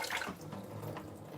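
Water from a tap runs steadily as sōmen noodles are rinsed in a kitchen, a continuous close splashing rush with no talking.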